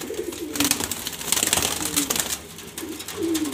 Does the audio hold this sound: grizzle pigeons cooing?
yes